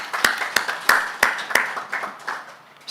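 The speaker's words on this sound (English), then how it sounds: "let's clap for them." Audience at a public-private partnership forum in Kigali clapping for youth ambassadors, with a few loud, evenly spaced claps standing out over a scattered round of lighter applause that fades within seconds.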